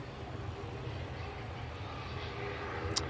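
An Etihad Boeing 787-10 Dreamliner departs Manchester Airport, a steady low distant jet rumble holding at an even level, with a brief sharp click near the end.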